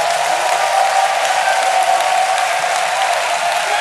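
A church congregation at an evangelism school gathering in Abidjan claps in sustained, dense applause, loud and even throughout with no pauses, crowd noise blended in.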